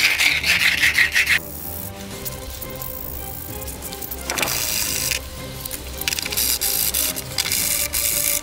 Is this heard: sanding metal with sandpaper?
yes